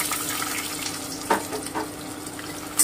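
Chopped onion goes into a frying pan of hot oil for a saffron mutton korma, giving a steady crackling sizzle with a couple of brief louder spatters.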